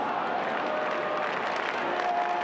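A large AFL semi-final crowd at a football stadium, Cats against Swans, sends up a steady, loud wash of cheering and applause that holds evenly throughout, with no distinct voice rising above it.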